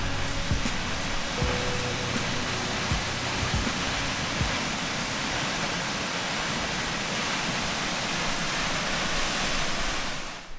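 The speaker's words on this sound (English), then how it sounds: "I think I like this waterfall better." Daggs Falls in Killarney pours down as a waterfall, making a dense, loud, even roar that fills the whole stretch without a break.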